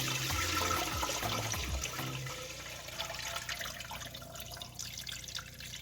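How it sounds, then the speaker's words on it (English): Cloudy, starchy water from soaked potatoes is emptied into a bowl, a strong splashing pour at first that thins into lighter trickling and drips. "I'm going to empty out the potato water into this bowl"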